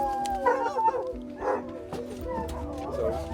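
Coon hunting dogs bay, howl and yip in a loose chorus outdoors, several animals overlapping at moderate distance with some faint human voices mixed in.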